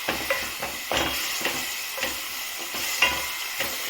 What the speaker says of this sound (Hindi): I am putting the flame थोड़ा सा हाई तो ये अच्छे से सौते हो जाएगा